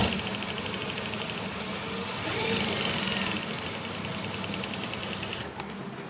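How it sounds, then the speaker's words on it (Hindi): Sewing machine stitching the shoulder seam of a ladies' kameez, a steady fast mechanical whir with rhythmic needle clatter, close and continuous, ending in a brief click. "अब दूसरे शोल्डर की सिलाई"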